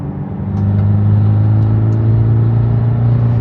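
A BMW G20 330e with catless downpipe, catback exhaust with valves open and Stage 1 tune idles loudly, then swells into a deep, throaty rumble, steady and close, with no talking.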